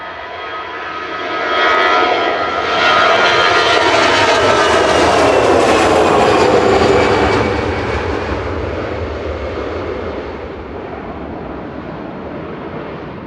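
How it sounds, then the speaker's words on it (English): An EasyJet passenger jet takes off from runway 23 left at Manchester Airport, bound for Prague. Its loud engine roar swells over a couple of seconds, holds, then slowly fades, with no voices over it. "EasyJet departing on 23 left, heading off to Prague"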